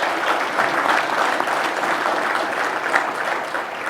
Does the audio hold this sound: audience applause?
yes